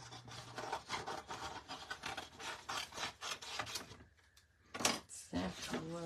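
A piece for a DIY project is cut with rapid back-and-forth rasping strokes, close and rhythmic, pausing briefly partway through before the strokes resume.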